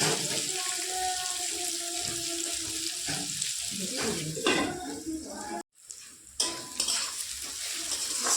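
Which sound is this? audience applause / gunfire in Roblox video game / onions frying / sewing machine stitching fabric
onions frying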